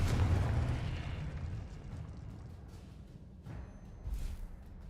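A Confringo blasting spell goes off in a video game with a loud, close explosion that opens in a heavy rumbling boom and fades over several seconds into a rough roar, with a smaller burst near the end.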